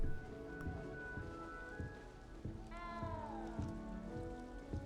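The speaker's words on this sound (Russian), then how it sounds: "Где он мяукает?" A cat meows inside Hogwarts Legacy, a single drawn-out, falling meow standing out over steady low game ambience and faint background music.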